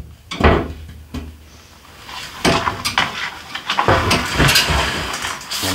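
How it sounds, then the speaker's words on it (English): A door on a large snake's enclosure being opened deliberately noisily: several loud, close clunks, rattles and scrapes of latch and panel, in irregular bursts with short pauses between. "I make a little bit of noise when I open the enclosure on purpose."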